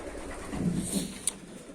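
Racing pigeons in a loft give low, soft cooing calls across a short stretch, with a faint sharp tap near the end and no voices.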